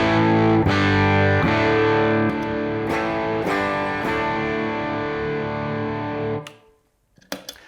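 High-gain overdrive pedal on an electric guitar, with the gain set high and the volume moderate: a thick, saturated distorted tone with a few struck chords ringing out, then cut off abruptly and silent apart from faint handling noise.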